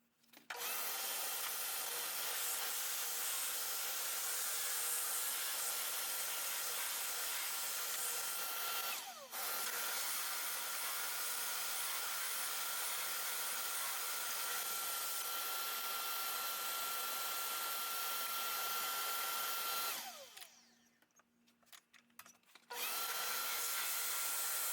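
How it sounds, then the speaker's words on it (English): A drill press with a 1-inch Forstner bit bores into mounted wood, a steady, close whining hum that briefly dips once, then cuts out for a few seconds before spinning back up. "I've got my wood mounted here in the drill press with my 1 inch drill bit ready to go."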